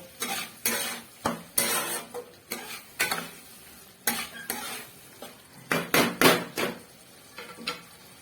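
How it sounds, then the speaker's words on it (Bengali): Chicken masala and slit green chillies sautéed in a pan, a spoon striking and scraping the metal in irregular sharp clatters over a soft sizzle, close up with no talking. "এই চিকেন মশলা দিয়ে আরো কিছুক্ষণ কষিয়ে নেব।"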